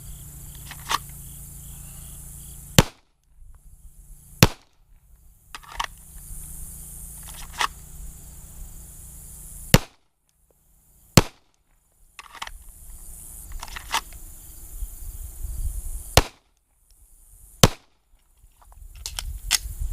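Glock Gen 5 pistol fired during a draw drill outdoors, sharp loud single shots spaced a few seconds apart, six in all, with quiet handling noise between them.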